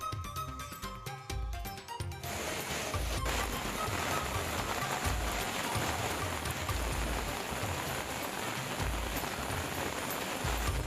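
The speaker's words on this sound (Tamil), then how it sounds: "திருப்பதி திருமலையில் 4 மணி நேரத்திற்கு மேலாக வெளுத்து வாங்கிய கனமழை." Heavy rain pours down at Tirumala near Tirupati, a dense, continuous hiss of drops on surfaces, steady and close, with a few louder patters at the start and no voices.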